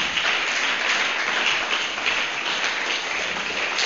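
Sustained applause from an audience during a church sermon: dense, even clapping that holds steady at a moderate level throughout, with no voices over it.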